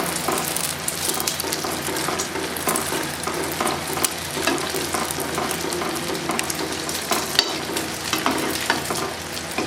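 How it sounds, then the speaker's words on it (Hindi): An egg frying in hot ghee makes a dense, continuous crackling sizzle, loud and close, with scraping stirring sounds through it. "अंडे को अच्छे तरीके से अब फ्राई करेंगे।"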